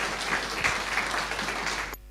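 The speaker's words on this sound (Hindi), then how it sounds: "वेलकम सर, जोरदार तालियां।" Audience applause at a Silvassa farmers' program session welcomes a leader to the stage, a steady wash of clapping for about two seconds that cuts off abruptly near the end.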